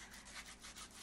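Steady rhythmic rubbing of sandpaper against a wooden bat, back-and-forth strokes in a close, even pattern with no talking.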